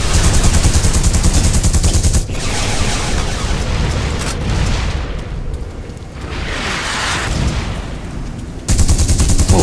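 Dense, loud automatic gunfire from The Punisher video game, rapid bursts with booming impacts that stop and restart, backed by continuous game noise and no talking.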